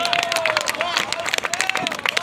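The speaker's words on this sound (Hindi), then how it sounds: "एक बार दोनों हाथ उठाकर तालियां बजाइएगा।" Dense crowd clapping at the Maha Kumbh Mela on the Sangam riverbank, steady and close, with many hands raised. Voices and chanting tones ride over the clapping throughout.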